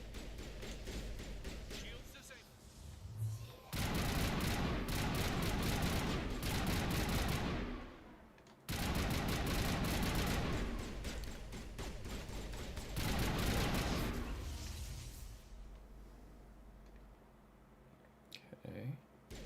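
Bursts of gunfire from Mass Effect: Legendary Edition crackle in two long, dense volleys of rapid shots, loud and close, separated by a short pause. Clicks and quieter game noise fill the rest.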